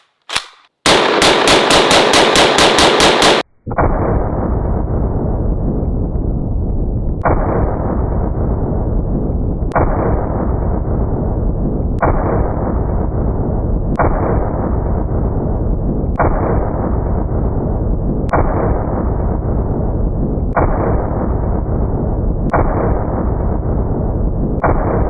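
A 30-06 rifle fires 150 grain AccuBond rounds at a ballistic shield. Very loud, close reports ring out at steady intervals of about two seconds, nine or ten in a row after a sharp opening burst.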